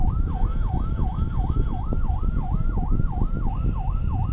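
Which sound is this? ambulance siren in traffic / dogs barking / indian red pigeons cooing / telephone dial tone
ambulance siren in traffic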